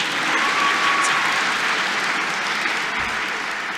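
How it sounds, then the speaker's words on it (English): At a Melbourne Polytechnic graduation ceremony, a hall full of people claps steadily for the official party, a dense, even wash of applause sustained throughout. "You guys can clap them too."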